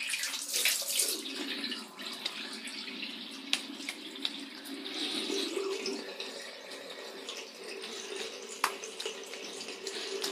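Tap water runs steadily into a sink while shaving cologne is rinsed off the face, a continuous close splashing stream with a few brief sharper splashes and no talking.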